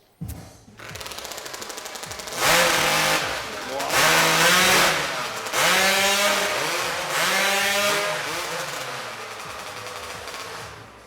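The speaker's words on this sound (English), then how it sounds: "Warm up your saws." STIHL Timbersports competition chainsaws warming up at the Swiss Pro Championship, several loud, close saws revving in repeated bursts of high-pitched engine whine with rising and falling throttle, running continuously and layered over one another.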